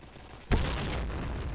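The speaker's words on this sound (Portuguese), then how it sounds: "Ah, eu tomei uma bombinha no pé." A sudden sharp blast followed by a lingering rumbling roar, a single small bomb explosion in a video game heard close up.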